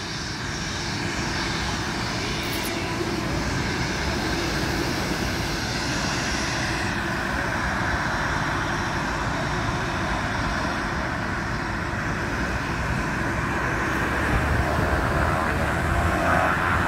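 A propeller airplane on a short-field takeoff at St. Maarten, a steady loud engine roar holding for the whole stretch and swelling slightly near the end.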